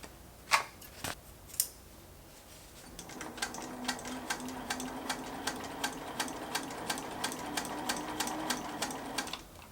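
Scissors trim the raw fabric edge of a zipper pouch: a few sharp snips first, then a steady run of regular, close clicking cuts, fairly quiet with no voices.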